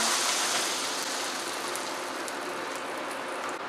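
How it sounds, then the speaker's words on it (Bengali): About a cup of water poured into a hot kadai, a loud continuous rushing splash with a steady hiss, close and alone. "এরপর আমরা এক কাপ মতো জল কড়ায় ঢেলে দিলাম"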